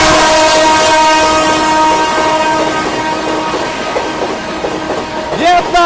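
The New Delhi–Sealdah Rajdhani Express passes close at speed, sounding a long, loud, sustained multi-tone horn over a dense roar of rolling wheels, with a brief rising pitch shift near the end.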